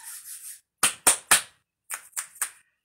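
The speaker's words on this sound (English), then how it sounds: "I do declare my clap snaps are back." Sharp clap snaps after a push-up, two quick groups of three crisp hand snaps, close and alone in a quiet room, preceded by a faint breathy voice.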